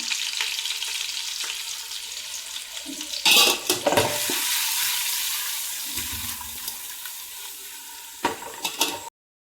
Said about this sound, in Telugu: ఒక గంజు తీసుకున్న దాంట్లో ఆయిల్ పోసి ఎగ్స్ని కొంచెం ఫ్రై చేసుకోవాలి